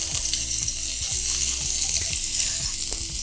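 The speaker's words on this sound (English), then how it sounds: "the oil is heated because actually it's a lot heated, you see that smoke, right? So you're going to add in the onions" Onions sizzle and fry loudly in smoking-hot oil for a Callaloo dish, a steady dense crackle with faint stirring clicks beneath, no voices.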